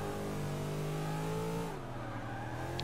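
A Willys jeep races through Prague streets in Forza 6, its engine droning loudly with a steady revving tone that drops in pitch as it eases off near the end, with no voices.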